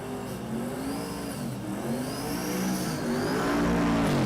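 Drag race cars at Las Vegas Motor Speedway roar steadily, engine note swelling and rising toward the end with a broad, loud rumble and no talk over it.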